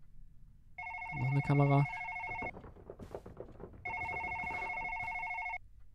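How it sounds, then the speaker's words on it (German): A telephone rings in the video game Dream with two long electronic ring bursts separated by a pause, while someone speaks briefly under the first ring. "Wo ist das Telefon? Ich möchte mal gerne rangehen."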